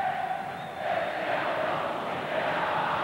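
A large crowd of Atlético Mineiro supporters roars and chants steadily in a football stadium during a 1996 state championship match, a dense continuous wall of cheering with faint commentary underneath.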